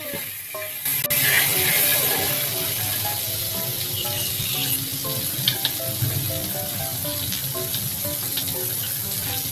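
Butter sizzles steadily in a hot pan, a continuous bright crackle with small pops, moderately loud and close, with no voices.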